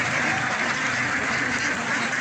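A flock of ducks on a Kottathara duck farm quacks in a dense, continuous chorus, steady and fairly close, with no voices over it.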